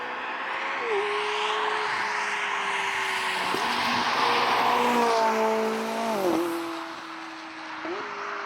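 A 2019 McLaren 570S Spider in automatic mode cruises steadily on a soaking wet road, its engine drone rising and falling through gear changes, with continuous spray and tire hiss underneath.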